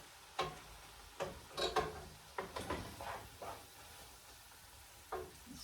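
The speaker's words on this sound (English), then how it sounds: "we're going to stir this in just 2 seconds" Lasagna sauce with tomato paste being stirred in a hot pan, a spoon scraping in irregular strokes over a soft background sizzle, close and fairly quiet with no voices.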